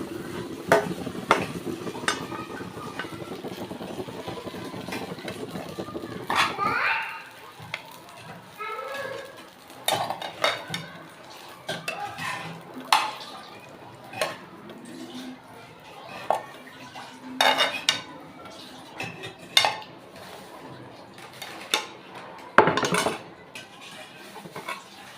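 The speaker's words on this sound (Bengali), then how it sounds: "পাস্তাটা হয়ে গেছে, এখন বেড়ে ফেলবো।" Cooked pasta is dished up at home, with pots, pans and utensils clinking and scraping in irregular bursts, close by, while voices talk intermittently in the background.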